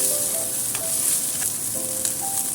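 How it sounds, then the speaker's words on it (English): Ground Sichuan pepper, green onions and ginger stir-fry in a wok with a steady close sizzle, broken by light scraping clicks of the spatula. "Stir fry a little bit."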